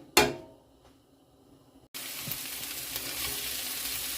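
Small chunks of venison fry in a pan, a sharp clatter as they are turned, then a quiet pause before a loud, steady sizzle rises and holds, close and with no talk.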